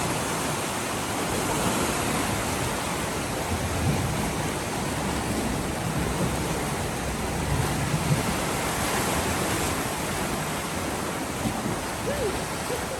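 Waves surging inside the Saipan Grotto sea cave, a steady wash of water with a faint hiss and low rumbles, moderately loud and continuous, with no clear voices.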